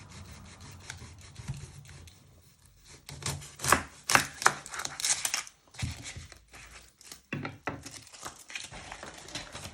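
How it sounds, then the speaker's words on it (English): A sharp knife chops through onion ends on a board, with scattered crisp cuts and rubbing scrapes that cluster in a louder burst midway. The sounds are close and mostly faint, with no voices. "I first chop off my ends using my sharp knife"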